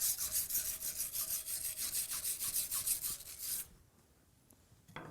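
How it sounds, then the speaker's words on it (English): A stainless steel wire brush scrubs aluminum stock clean before welding, fast rhythmic back-and-forth rasping strokes up close for about three and a half seconds, then quiet. "you want to at least hit it with a wire brush, a stainless wire brush, to clean off the area you're welding."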